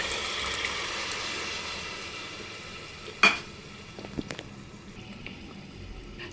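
Chana poured with water into a pan of fully fried tomatoes for an Odia ghanta curry, giving a steady close sizzle with a sharp splash-like burst midway, then quieter bubbling and a few light clinks.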